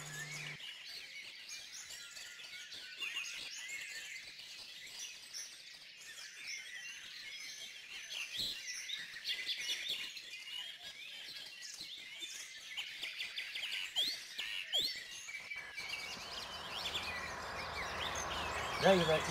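A tame European robin chirps and sings repeatedly close by, bright high tweets running through the whole passage over faint background rustle, with the calls growing denser toward the end.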